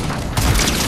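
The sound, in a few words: War Machine turret firing automatically in Fortnite video game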